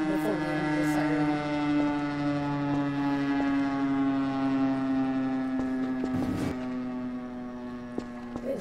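A civil defense siren rings out inside the video game Garry's Mod, a steady sustained wail holding loud and continuous throughout, with a brief bump of other game noise near the end.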